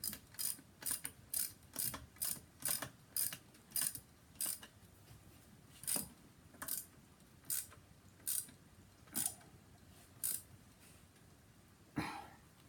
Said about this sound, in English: a socket and ratchet. To tighten down the clamping sleeve.